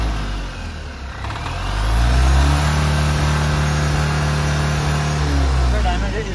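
A Tata Ace Mega XL BS4 pickup engine that misfires, lacks power and blows black smoke revs up close and loud, then holds a rough, droning mid-pitched roar with a slight fade near the end.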